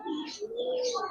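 Silver Giribaz pigeons coo in soft, rounded, repeated calls, close and fairly quiet, with a few brighter chirps mixed in and no talking.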